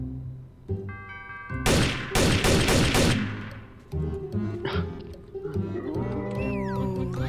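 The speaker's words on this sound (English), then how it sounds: "I'm going to shoot you with my MP4" Bursts of MP4 gunfire in Garry's Mod Trouble in Terrorist Town: a rapid string of loud, sharp shots, then scattered impacts and game effects trailing off, with no voices.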